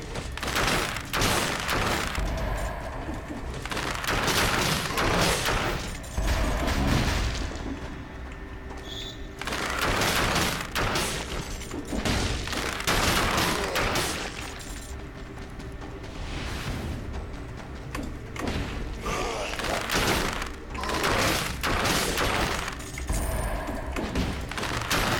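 Rapid, dense weapon fire from enemy Inquisitors in a video game: continuous overlapping bursts and booms that surge and ease across the whole stretch, loud and relentless.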